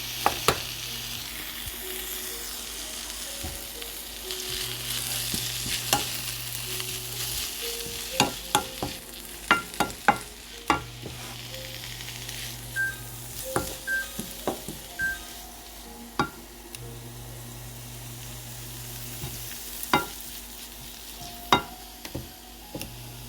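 Plantain greens stir-fry in perilla oil in a pan. A steady sizzle carries through the whole stretch, broken by repeated sharp scrapes and clacks of the utensil. No voices are heard.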